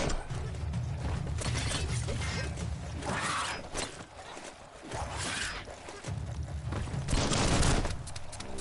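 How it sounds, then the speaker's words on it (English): Gunfire in the Biomutant video game, bursts of rapid shots and mechanical clatter in a busy combat mix, fairly quiet, with short lulls between volleys. "Bullets everywhere."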